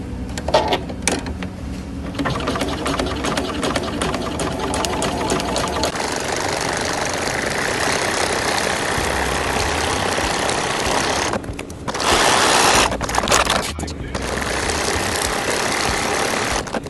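Domestic sewing machine at stitch length 3 running up and down quilting lines on pieced scrap fabric, a loud, steady motor drone with brief pauses and restarts between rows, close by and without talk.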